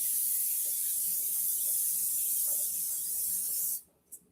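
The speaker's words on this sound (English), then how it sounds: "So let's spray this onto the bacon pan." A spray can hisses steadily onto a bacon pan in a kitchen, a continuous close spray lasting several seconds before cutting off, followed by a faint knock.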